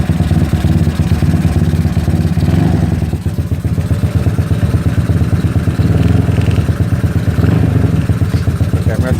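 An SSR Interceptor 150 scooter (ZNEN ZN150T-9) with the throttle worked, its engine running loud and close with a rapid putter, revving up and easing back with slight rattle.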